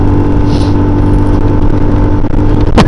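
A large vehicle drives past on a road, its loud steady engine rumble filling the whole stretch close by, with a brief sharp noise near the end.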